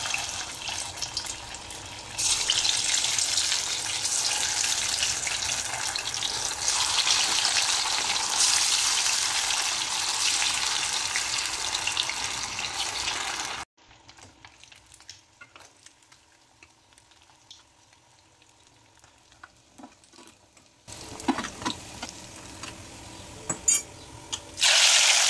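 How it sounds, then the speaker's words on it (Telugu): Pieces of korameenu (murrel) fish coated in spice masala fry in hot oil with a loud, dense hiss and crackle. The frying goes quiet in a soft stretch, then the sizzle returns along with a few sharp clinks. "ఇప్పుడైతే కొరమేను ఫిష్ ఫ్రై చేస్తాను అనమాట."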